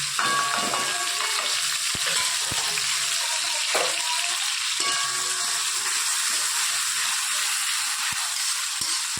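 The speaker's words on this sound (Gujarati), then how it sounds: "એ તેલમાં પછી આપણે વઘાર કરીશું" Steady, dense sizzling of cumin tempering in hot oil, a continuous crackling hiss with a few faint clicks, no talking.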